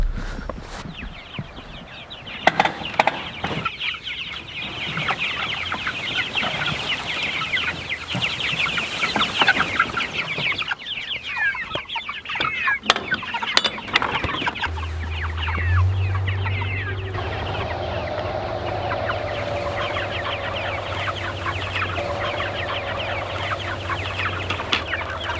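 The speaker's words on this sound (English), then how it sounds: "I need to move our meat chickens now." Meat chickens on a farm cluck steadily and close by throughout, with scattered soft footsteps and bird calls around them and no talking.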